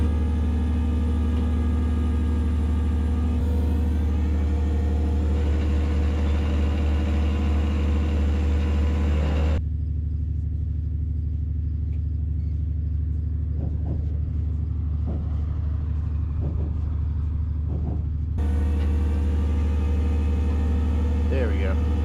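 A truck engine drives a short distance down a road, a steady loud mid-pitched rumble with shifts in load, heard close from inside the cab, while someone talks.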